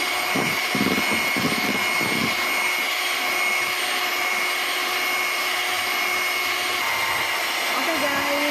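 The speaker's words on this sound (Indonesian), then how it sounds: "Lalu kita mixer." Electric mixer beating lapis legit cake batter, a loud continuous whirring motor hum with a steady high whine, close by, with brief muffled voices or knocks early on.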